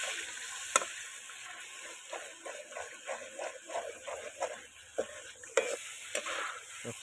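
Goat mutton masala sizzles in a kadai while a spoon stirs it, making a steady run of close scraping clicks and soft knocks over a low frying hiss.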